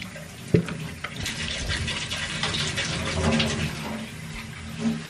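Loud rushing water in a UK family home, a heavy steady pour with a sharp thump near the start, running continuously with no talk.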